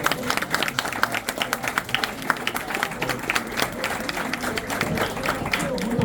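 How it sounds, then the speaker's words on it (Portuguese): Audience at a São Paulo history event claps loudly and unevenly, close individual hand claps standing out from the crowd, with people talking over it. "Uma salva de palmas para nós"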